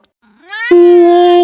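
A single cat meows once, close and loud, rising from a soft start into a sustained tonal cry that ends abruptly.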